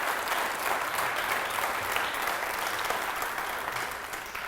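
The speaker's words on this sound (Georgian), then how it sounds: "ეს აპლოდისმენტები ამ ნიჭიერ ადამიანს მომავალ ხატვარს" A group claps steadily and evenly for a talented student and future painter at a school event honouring Terjola's best pupils, the dense applause holding for several seconds before easing slightly at the end.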